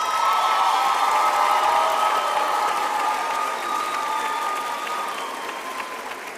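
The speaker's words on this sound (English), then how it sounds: "I would now like to ask our graduates to applaud their families, friends, spouses, partners for their support over the years." University health sciences graduates fill a ceremony hall with loud, dense applause for their families, joined by a few cheers, and the clapping tapers gradually over several seconds.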